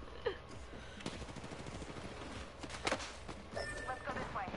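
Gunfire in Apex Legends rattles off in rapid bursts, short sharp cracks with a few louder shots standing out over a busy game background.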